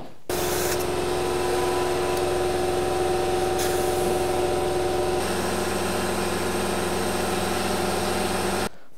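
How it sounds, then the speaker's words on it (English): Air hisses steadily into a snowblower tire through its valve stem, with a compressor or pump droning underneath. The sound holds for about eight seconds and shifts slightly partway through, then stops abruptly. "Let's get some air in the tire."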